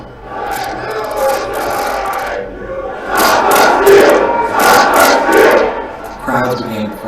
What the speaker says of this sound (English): By 2:30, rioters breached security and made their way into the Capitol through windows and doors.